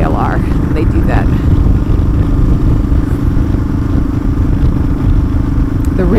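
A Kawasaki KLR motorcycle engine runs loud and steady up close, a constant low thrum with a faint rattle, while someone talks over it throughout.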